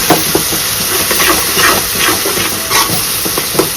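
Onions fry in hot oil while a dried-fish curry is being made, giving a loud, constant hiss with scattered crackles and pops close by. No one speaks.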